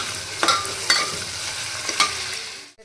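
Chopped tomatoes fry in a pan for dal, a steady close sizzle broken by several clinking scrapes of a spoon stirring, before the sound cuts off abruptly.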